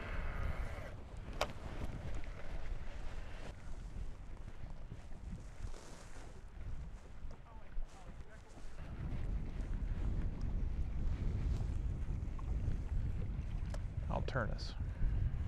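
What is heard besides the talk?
strong wind blowing over a fishing boat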